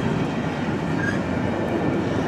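CSX freight train rolling by on the rails with a loud, steady rumble of wheels and cars and a faint squeal, continuous and close throughout, with no voices.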